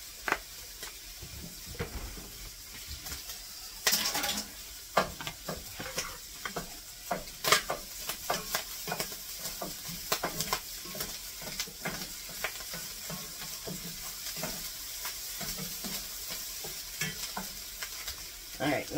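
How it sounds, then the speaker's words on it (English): Big Mac casserole mixture popping and crackling in a hot pan while being stirred, with scraping spoon strokes and sharp pops scattered over a steady sizzle, no talking. "I know I gotta stir mine because it's popping"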